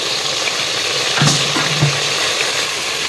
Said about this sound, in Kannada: ಸ್ವಲ್ಪ ಇದು ಸ್ಮೆಲ್ ಹೋಗೋ ಮಟ್ಟ ಫ್ರೈ ಮಾಡ್ಕೋಬೇಕು